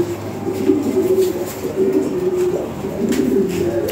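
Original European Lahore pigeons coo softly and repeatedly, low throaty calls over a steady background hum, no voices.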